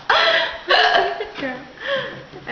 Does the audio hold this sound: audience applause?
no